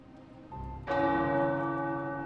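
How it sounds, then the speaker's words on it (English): Tower church bells in the video game Marvel's Midnight Suns strike with a loud, resonant clang that rings on with a long, sustained hum, preceded by a brief low tone. "The tower bells are ringing."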